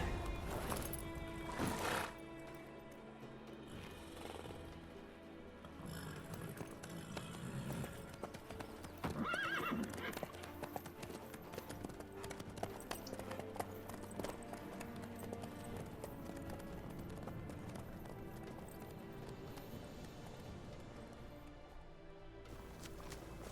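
Horse hooves clip-clop in a steady walking rhythm in The Witcher 3: Wild Hunt, with a whinny near the start and occasional creaks and rattles of tack, under a continuous ambient game soundscape.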